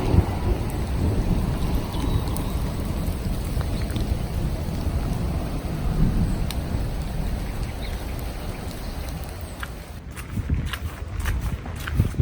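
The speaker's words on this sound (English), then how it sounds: "But it is seriously raining hard." Heavy rain pours steadily throughout a hike in a storm with 40 mph winds near Essendon and Little Berkhamsted, a dense, loud roar of downpour with gusty rumble and no talking.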